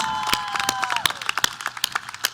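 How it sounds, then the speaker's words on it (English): Scattered hand claps from a high school graduation audience honoring the class of 2022 seniors, sparse and uneven with a few sharp nearby claps and a brief tonal whistle-like sound early on. "let's give them a round of applause."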